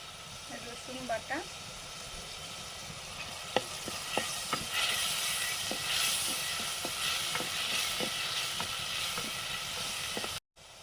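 Crab curry frying in mustard oil in a pan: a dense continuous sizzle builds and holds, with scattered utensil clicks and brief stirring knocks, and a short murmur of voice near the start.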